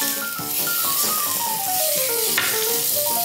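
Coarsely cut meaty tomatoes sizzle loudly and steadily in a hot pan for tomato soup with mozzarella, a continuous frying hiss with clattering stirring and faint background music.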